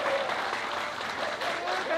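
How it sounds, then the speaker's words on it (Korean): A group of Buddhist pilgrims at a Korean temple applaud together, a continuous, fairly loud wash of clapping from a nearby crowd with faint voices mixed in. "보살님한테 우리 박수 한번 크게 해주세요."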